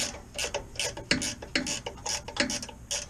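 Close ratchet clicking in quick repeated bursts as bolts are loosened on the top mount of a 2017 Ford F-150 during a 2.5-inch lift kit install, with short pauses between runs of clicks.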